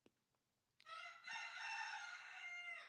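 A single rooster crows loudly and close by, one long drawn-out call after a brief quiet moment.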